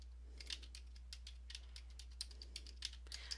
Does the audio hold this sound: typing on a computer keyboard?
yes